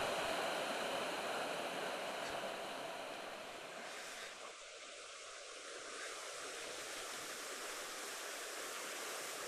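A creek rushes steadily in the Blue Mountains near a waterfall track, a loud, continuous broadband wash of flowing water that stays even throughout with no voices.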